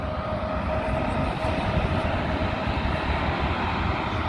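A jet airliner passes overhead during plane spotting at an airport, its steady, loud engine roar filling the whole stretch with broadband rumble and a faint tonal whine; someone talks over it.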